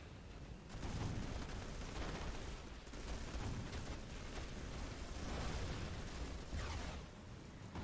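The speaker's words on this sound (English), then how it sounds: "And we have more artillery and stuff coming here in a pincer attack." Artillery and gunfire in the strategy game Rise of the Reds, a dense continuous barrage of booms and rattling blasts that fills the whole stretch, loud and sustained, with no voices.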